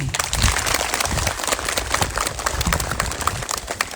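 A school audience at an Indonesian junior high gathering claps loudly for a woman who has just finished speaking, a close, busy burst of applause with uneven, rattling hand claps throughout.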